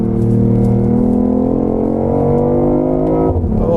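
A BMW i8 drones loudly and steadily from inside the cabin, its engine note boosted by artificial sound through the speakers, the pitch climbing gradually before dropping suddenly near the end as if on a gear change.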